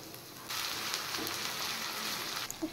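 Garlic and chopped ginger frying in a pan give a sudden, steady sizzle that starts, holds for about two seconds, then cuts off, with a faint stir clink just after.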